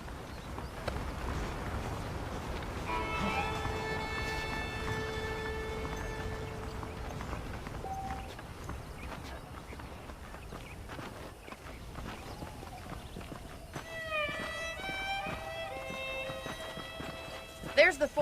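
Horse hooves clip-clop in a steady rhythm throughout a Red Dead Redemption scene, moderately close, while characters talk over the hoofbeats.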